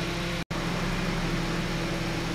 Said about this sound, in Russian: Ладно, пусть греется двигатель.